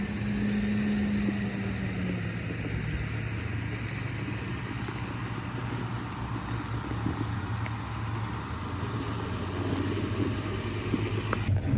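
A farm vehicle with a scraper blade hooked up travels toward a pivot-irrigated field, its engine a steady low drone running unbroken and fairly close throughout, with no talking.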